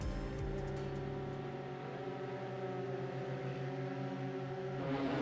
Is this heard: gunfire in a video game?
no